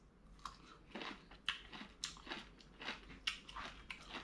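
Repeated crisp crunching and biting of cooked green beans that are still firm, close to the mic, in a quick irregular series of about eight bites with no talking.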